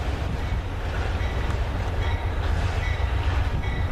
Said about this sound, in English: it's the Amtrak, buddy. It's the Pennsylvania, the eastbound